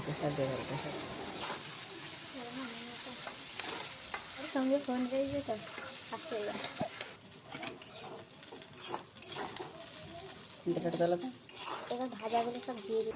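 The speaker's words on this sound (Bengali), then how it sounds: "এবার চাউমিনগুলোকে খুন্তির সাহায্যে ভালো করে ভেজে নেব" Chicken chowmein is stir-fried with a metal spatula in a pan: continuous sizzling with repeated scraping and clattering strokes, while a person speaks over the cooking.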